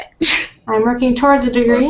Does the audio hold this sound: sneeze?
yes